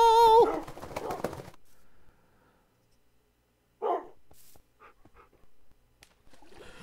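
Dogs in Minecraft give a few sharp, short barks and yelps after a stretch of quiet, loud and close, with other brief game sounds scattered between them.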